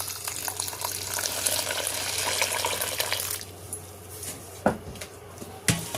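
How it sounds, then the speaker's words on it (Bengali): Water runs and splashes steadily onto flattened rice (chira) in a bowl for about three seconds, then stops, followed by a few soft knocks and stirring sounds. "এবার এই চিড়েটা আমি ভালো করে ধুয়ে নেব, তার জন্য জল দিয়ে দিচ্ছি।"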